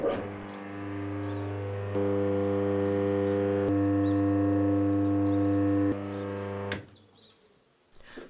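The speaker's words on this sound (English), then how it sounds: "the motor is working" A 60-year-old electric drill motor, refitted with a new capacitor, runs with a steady, close tonal hum for several seconds, with small clicks as it shifts, then winds down and stops.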